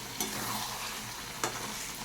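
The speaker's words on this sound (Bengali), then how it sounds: "সব শেষে আমি এই 1 চামচ টক দই আমি ভালো করে মিশিয়ে নিচ্ছি" Yogurt is stirred into a potato curry in a pan: a soft, continuous simmering sizzle with two quick scraping strokes of the spoon against the pan, close and alone with no speech.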